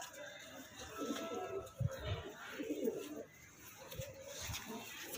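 Saharanpuri pigeons coo softly in low, rolling murmurs that rise and fall over several seconds, faint and close, with light background noise.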